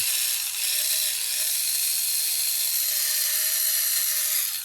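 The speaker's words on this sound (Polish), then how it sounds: "Sprawdźmy jeszcze tą wkrętareczkę Magalistera." A Magalister cordless screwdriver, rated at 180 rpm with no speed control, runs continuously with a loud, close, high-pitched electric motor whine and faint periodic wavering, with no talking.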